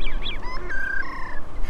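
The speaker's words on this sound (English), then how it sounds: "This is a bird, the hooded grebe, wild and beautiful." A wild hooded grebe in South America gives a series of nasal, honking calls, with rising and falling notes and a longer sustained tone, close and fairly loud.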